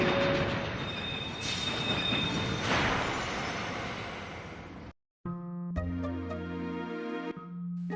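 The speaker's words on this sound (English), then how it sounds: "that will actually bring the train to a stop just before disaster strikes" A train in the Final Fantasy VII video game grinds to a stop, a loud sustained rush of squealing brakes and rumbling wheels that cuts off abruptly, followed by a steady mechanical hum and chiming tones.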